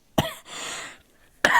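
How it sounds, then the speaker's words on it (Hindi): A single sharp cough up close, followed by a breathy exhale and then another harsh cough. "सॉरी, बीच बीच में खांसी हो जा रही है।"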